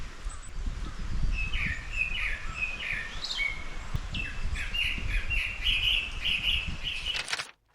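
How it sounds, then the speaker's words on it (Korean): Mountain birds singing in a lively run of repeated chirping phrases, fairly close, over a low rustling background, ending abruptly, near Gaesimsa temple in Seosan, Korea, in April. "산새들의 노랫소리를 한참이나 듣고 있었습니다."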